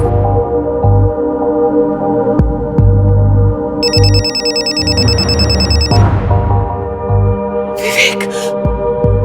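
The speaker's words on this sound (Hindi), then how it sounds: "सर कंचन जी के फोन पे विवेक का नंबर फ्लैश हो रहा है।" A mobile phone rings with an incoming call in a crime drama scene, a loud, repeating electronic ringtone over a tense musical score, with a brief sharp high sound near the end.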